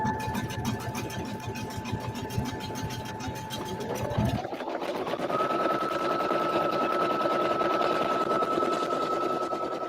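A sewing machine stitches pieces of a fabric pouch, running steadily with a fast, even mechanical whir; the motor pitch shifts partway through as the speed changes, close and continuous without talk.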